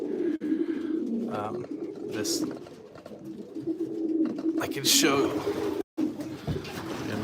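Racing pigeons coo steadily in an aviary loft, with a low murmur of birds close by and occasional fluttering, while someone talks over them.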